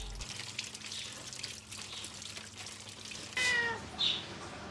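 A house cat gives two short, fairly close meows near the end, set against a low indoor background hum with faint clinks and no talking.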